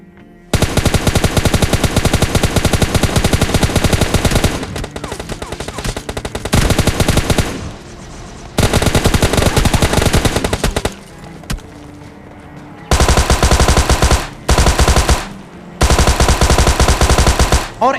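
Loud, rapid automatic gunfire from PUBG Mobile Lite gameplay comes in long sustained bursts, broken by short pauses and a few quieter stretches.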